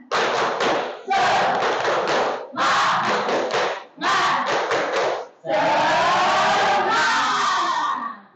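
A classroom of students performs the 'tepuk semangat' cheer together, loud rhythmic group clapping with chanted voices in four bursts split by brief gaps, the last burst longer and steadier.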